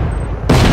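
Gunfire in the Just Cause 3 video game at a big army base beside a petrol station: a loud, dense burst of shots erupts halfway through after a quieter rumbling stretch, with no talk.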